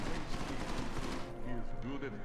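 Enemies in the video game Deus Ex: Mankind Divided fire guns in rapid, continuous bursts of automatic gunfire that fill the scene, with someone talking over the shooting.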